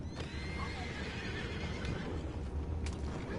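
A horse whinnies in Red Dead Redemption 2 amid steady background noise, with a few faint hoof clops; a second neigh rises sharply near the end.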